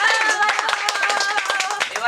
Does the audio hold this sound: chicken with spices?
no